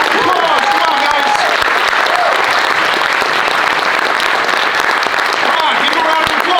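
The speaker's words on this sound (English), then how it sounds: "Give them a round of applause." Audience at a seminar clapping loudly and continuously, dense applause that fills the whole stretch with a few faint shouts.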